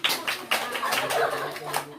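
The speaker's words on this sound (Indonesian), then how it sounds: "Tepuk tangan dong." Children in a classroom clap their hands in a short burst of quick, close claps, with voices chattering over and under the clapping.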